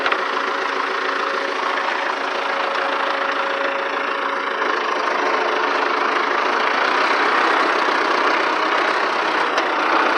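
An International 624 tractor, used for blowing snow, runs steadily with its engine idling, a continuous rough mechanical drone at close range with no talk over it.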